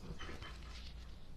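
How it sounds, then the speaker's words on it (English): A sleeping dog makes soft whimpering, panting noises in the background, faint and close, in a brief snippet with no speech. "If you hear my dog in the background, she's sleeping."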